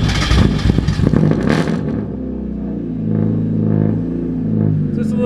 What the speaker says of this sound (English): All right, let's get started trying to crank this thing.